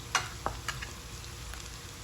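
Minced meat and potatoes with green chilli, coriander and black pepper fry in a pan, a steady close sizzle broken by a few light scrapes and taps of a stirring spoon.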